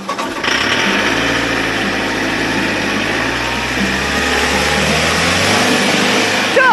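A car engine on a steep mountain road in western Sichuan roars loudly at high revs under floored throttle, a sustained strained drone with a steady low harmonic hum, close and continuous without talk.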